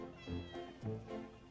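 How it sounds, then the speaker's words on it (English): Frightened kittens stranded on top of a fence meow repeatedly in short, plaintive cries, three or four calls in quick succession at close range. "No, I'm pretty sure they're meowing because they're terrified."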